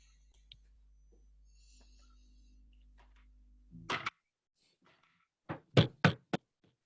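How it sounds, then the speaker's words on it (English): Knocking on a door as a stage sound effect in a Macbeth theatre performance, a quiet stretch and then a sharp thud, followed by a rapid series of four loud knocks. "Whence is that knocking?"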